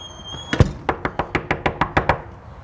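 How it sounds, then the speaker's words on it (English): Knocking on a door, used as a distraction while training a dog named Luna on a stationing mat: one heavy thump, then about nine crisp, evenly spaced raps, loud and close, with no voices. "Knocking on the door."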